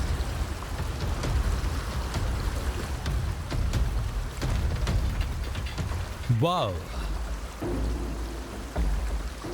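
A forest stream flowing, a steady broad rushing of water heard continuously, with people talking nearby and a brief exclamation over it.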